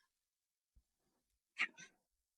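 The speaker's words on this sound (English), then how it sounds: "Sorry, cat's fighting." Cats fighting indoors let out a short, sharp yowl and hiss, a brief close outburst of two quick cries after a faint thump, in an otherwise quiet room.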